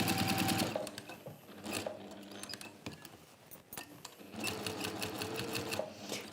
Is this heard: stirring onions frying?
no